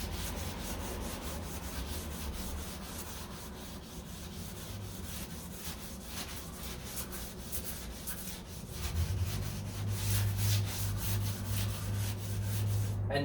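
Hand sanding the body of a 1969 Corvette C3 with 800-grit paper: steady, close rhythmic rubbing strokes continue throughout, with a low hum joining partway through.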